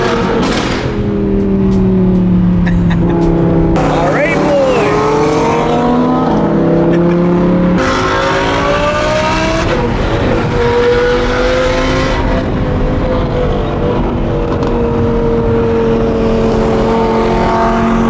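An Audi R8 with straight-piped exhaust revs loudly and continuously close by, its engine pitch climbing and falling through repeated blips, sounding raw and aggressive throughout with no voices.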